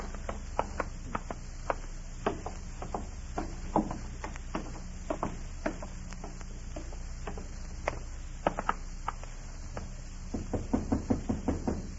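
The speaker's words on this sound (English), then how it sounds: "Don't stand out there and knock." Irregular knocking on a door, many sharp raps scattered across the stretch with a denser flurry near the end, over faint background hiss.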